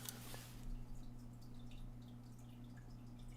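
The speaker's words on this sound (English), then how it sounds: "I think I just the sound, the water sound. Oh, that's probably my fish tank." Water from a home fish tank trickles and drips faintly, with soft irregular drops over a steady low electrical hum and no voices.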